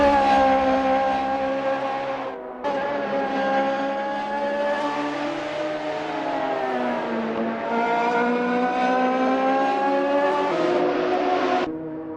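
A Radical SR3 race car in a sim racing game at Donington Park screams at high revs, its engine note climbing and dropping through gear changes, with a brief lift-off near the start and a steady, loud drone throughout.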